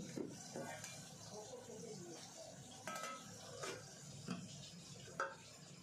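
Fish curry cooks in a pan in a home kitchen, with faint sizzling and scattered clinks and scrapes of a utensil against metal, quiet and close, with soft talk now and then.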